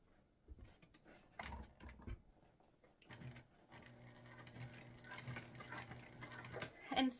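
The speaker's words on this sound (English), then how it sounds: "Sewing the final side on." A sewing machine stitches the final side of a sling bag, starting with a few scattered taps and short runs, then settling into a steady, quiet mechanical whir with no talking.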